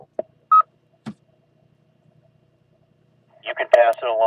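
Telephone dialing tones sent over a two-way radio link: a few short, separated tone bursts amid near silence, followed by a crackly burst of radio transmission with voices at the end.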